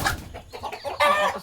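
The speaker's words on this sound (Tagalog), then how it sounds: "Ayan yung mga pabo." Turkeys call in a brief burst of clucks and gobbling, close by and fairly loud, with no talk.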